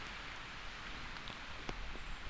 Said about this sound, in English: Rain's coming back in.